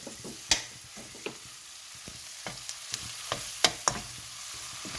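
Chicken 65 mixture with ketchup being stirred in a pan, a soft steady sizzle under repeated sharp scrapes and taps of a spoon against the metal, fairly close.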